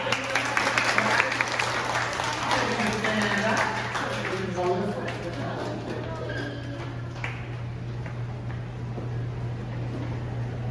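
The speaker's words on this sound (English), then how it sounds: "let's give him a round of applause." An audience at a speech contest breaks into applause, a dense wash of clapping that is strongest at the start and then settles into steady, slightly thinner clapping.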